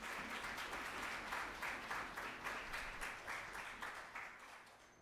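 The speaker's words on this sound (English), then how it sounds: "I want you to give them a round of applause" Sustained applause from a seated assembly of youth and senior members at a Tobago Day debate, steady dense clapping at moderate distance that gradually thins toward the end.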